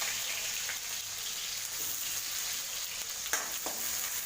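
Onions frying in a pan for an Assamese pork curry, a soft steady sizzle with faint stirring clicks and a couple of sharper pops near the end.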